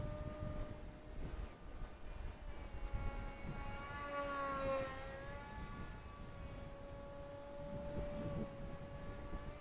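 A Skyhunter RC plane buzzes through the air with a thin, whining electric motor drone whose pitch rises and falls as it passes, moderately distant over faint outdoor background noise.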